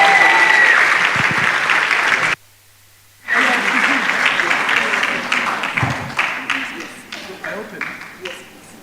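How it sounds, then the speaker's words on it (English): Applause from an award ceremony audience, a full burst of clapping that cuts out briefly, then resumes and gradually thins and fades, with some talk-like sounds mixed in. "let's give him a round of applause as he makes his way here"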